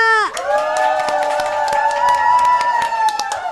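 An indoor audience cheers in a sustained chorus of voices holding a long shout, with scattered claps ticking through it from start to finish.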